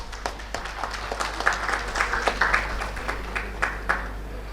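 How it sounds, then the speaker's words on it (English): Audience applause at an infrastructure and railways conference during a token-of-gratitude presentation: a moderate crowd clapping steadily with some distinct sharp claps standing out, over a low constant hum from the hall. "Can we please have a big round of applause, everyone?"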